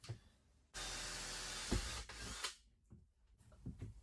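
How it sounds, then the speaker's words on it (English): Power screwdriver driving screws at an angle through panelling into a support beam of a vintage caravan under restoration; one sustained, close, loud whir lasting over a second, then quieter handling knocks and clatter. "When I fasten the screws at a little bit of an angle into the support beam, it seems to hold it a lot better"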